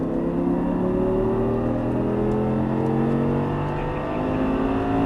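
An Audi R8 accelerates hard around a race track, its engine note climbing steadily through the gears in a continuous, close, loud roar with no talk.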